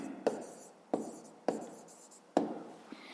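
A pen writes on paper in a few short scratchy strokes, each starting with a sharp tap, faint and close in a quiet room.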